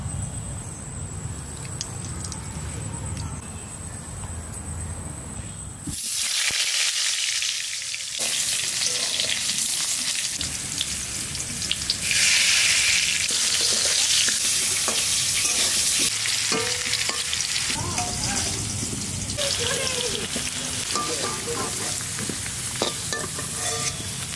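Mustard oil in a kadai sizzles loudly and continuously, a hot frying hiss that surges when something hits the pan and keeps crackling unevenly throughout, with no talking.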